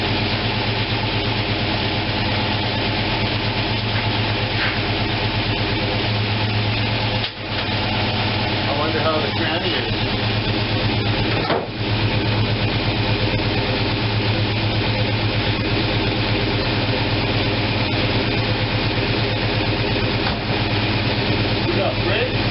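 A car engine idles at about 700 rpm in a steady, unbroken low drone that lasts throughout, with people talking over it.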